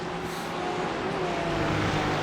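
Ferrari GT3 race car engine in a racing video game, a steady droning whine at moderate level that holds without letup, heard without talk.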